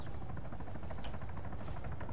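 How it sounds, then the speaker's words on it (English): A UH-1Y helicopter's rapid rotor thumping pulses steadily from a distance, a continuous chopping drone with no voices. "Nope, that's a helicopter."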